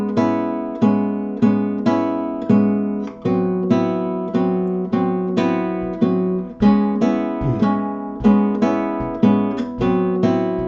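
Fingerpicked bossa nova chords on guitar, crisp plucked attacks falling in a lilting syncopated rhythm, each chord ringing briefly before the next, played up close with no voice.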